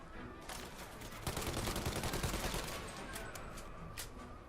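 Bursts of Tommy gun fire in Mafia Definitive Edition, a dense rattling fusillade of rapid shots that swells in the middle and stays loud, with more separate cracks near the end.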